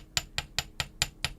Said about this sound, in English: And I'm going to get my mini chasing hammer